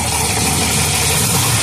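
Steady, loud idle of an LS V8 in a Mustang running on a Black Diamond QFT 650 carburetor, a continuous even rumble with no voices.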